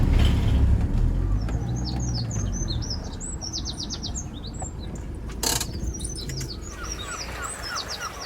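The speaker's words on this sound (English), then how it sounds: "There's plenty of birdsong, and of course lots of gulls flying around." Birds chirp and tweet in quick repeated phrases over a steady low background rumble at a coastal campsite in Ladram Bay, with gulls around and a brief sharp noise midway.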